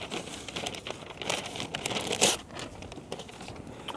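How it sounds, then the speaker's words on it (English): A sheet of newspaper is torn and crumpled up close, with crisp crinkling and a sharper rip partway through, no voices. "I get newspaper and I'll usually rip a piece off"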